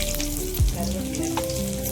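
Curry leaves and fenugreek seeds frying in hot oil for a dried anchovy fish curry, giving a steady close sizzle and crackle with a brief stir near the start.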